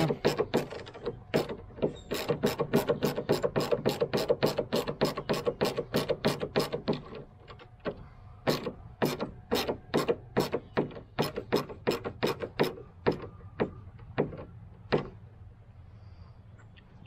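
A screw being driven into a skid plate on a Hobie Lynx kayak, a long run of rapid ratcheting clicks that slows into spaced clicks, close and clear with no talk.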